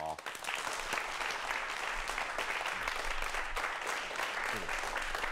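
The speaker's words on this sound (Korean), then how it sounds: "큰 박수로 환영해 주십시오" A television studio audience on a Korean broadcast claps to welcome two guests, a dense, even wave of many hands that rises quickly and holds steady, close and continuous.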